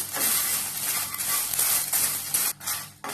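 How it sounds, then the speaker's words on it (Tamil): Spices, dal and lumps of asafoetida for idly podi crackle and hiss as they roast in a hot pan. The frying noise is a dense, continuous sizzle, loud and close, with a few brief dips toward the end. "பாருங்க, இது மாதிரி நல்லா மொறுமொறுன்னு சத்தம்லாம் கேக்குது பாருங்க."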